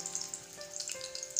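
Chili pakoras frying in oil, a faint, close sizzle with soft crackles and bubbling pops for a brief moment.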